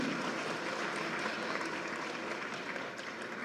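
An audience at a watershed conference claps in a steady, faint, distant wash of applause that holds throughout.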